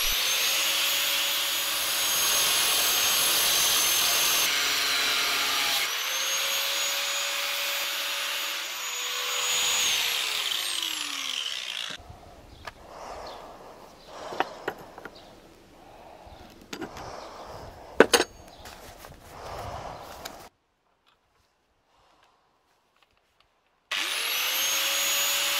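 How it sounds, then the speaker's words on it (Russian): An angle grinder cuts metal plates in long loud whining passes whose pitch dips under load, followed by quieter handling clatter and knocks, a stretch of near silence, then the grinder starting again. "Надо будет резать болгаркой или ножовкой."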